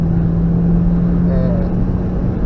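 Onboard a car accelerating hard on the Nürburgring Nordschleife in the rain: a loud, steady engine drone with a constant low hum runs unbroken from start to finish.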